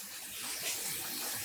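Water running from a tap into a container to rinse hand-dyed black yarn, a steady, close hiss and splash with no break and no voices.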